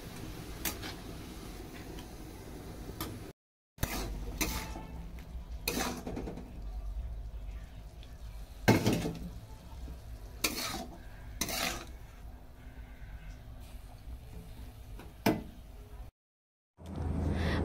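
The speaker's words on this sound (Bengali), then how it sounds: "এতটা শাক হয়েছে কিন্তু ভাজলে একদম কমে অল্প হয়ে যাবে।" Leafy saag greens fry in a pan on high gas, giving a low steady sizzle punctuated by repeated sharp scrapes and knocks of a spatula against the pan, with two brief silent gaps.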